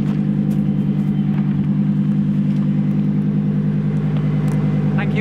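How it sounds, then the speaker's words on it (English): A Lamborghini Huracan Performante's V10 engine runs at a steady, loud, droning pitch, with a strong low rumble as the car drives. "The V10 sounds pretty amazing, right, Tim?"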